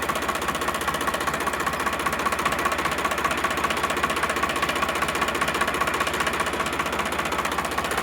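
A Sonalika DI 745 RX tractor diesel engine idles close by, a steady loud chugging rumble with a fine rapid knock, running alone without voices.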